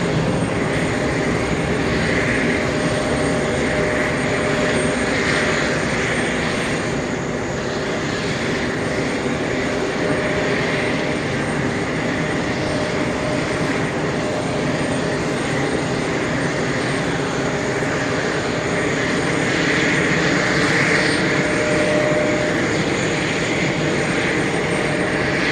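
A jet airliner departing runway 13 left at JFK, its engines giving a sustained loud broadband roar that stays steady across the whole stretch, alone without voices.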